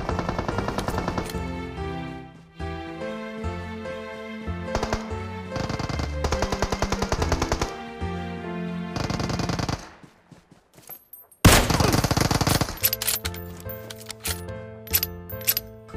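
Gunfire rings out in a PUBG Mobile jungle-mode match, with dense rapid automatic bursts repeating loud and close, a brief quiet gap, then another sharp volley.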